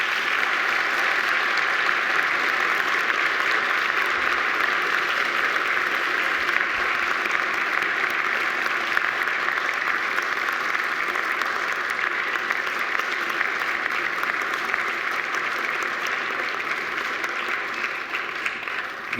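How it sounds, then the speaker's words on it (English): A graduation ceremony audience applauding families and friends, with sustained, even clapping from a large crowd in a hall that stays steady for nearly twenty seconds, without voices. "And now I invite you to give them a mighty round of applause and thanks."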